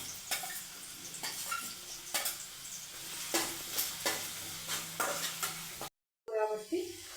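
Onion and other vegetables are stir-fried for egg fried rice, with a soft frying hiss broken by repeated sharp scrapes and clinks of a spatula against the pan, then a brief pause near the end.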